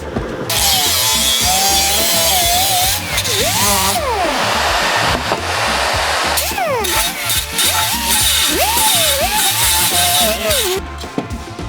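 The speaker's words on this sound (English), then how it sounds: "I'm gonna go little sanding disc and just clean everything up nice" A power sanding disc grinds metal with a loud, continuous whine whose pitch dips and rises as pressure shifts, running steadily for about twelve seconds.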